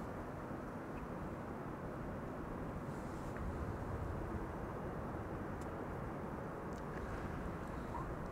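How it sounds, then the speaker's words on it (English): A jet airliner passes overhead near an airport's center runway, a steady, broad rumbling roar that holds at an even, fairly faint level from start to finish with no talk. "I'm hearing an airplane overhead"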